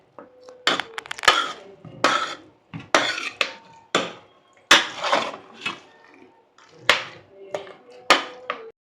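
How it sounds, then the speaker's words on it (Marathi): Soft cooked vegetables are mashed with a spoon in a pot, giving a series of separate squishing, tapping strikes at an irregular rhythm, each short and close, with quiet gaps between. "बघा हे चमच्याने स्मॅश होत आहे"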